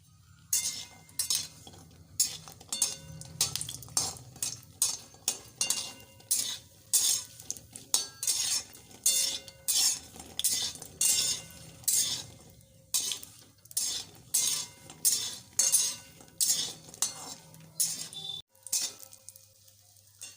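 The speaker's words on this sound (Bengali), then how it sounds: "এবার বড়িগুলো দিয়ে ভেজে নেব ভালো করে" Lentil dumplings frying in hot oil in a pan, with a spatula scraping and clinking in a steady rhythm over a soft sizzle.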